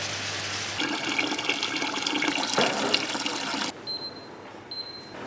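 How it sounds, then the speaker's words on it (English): Water pours steadily and loudly into a cooking pan for noodles for a few seconds, then stops, leaving a quieter room with a faint high beep. "Add some water into it."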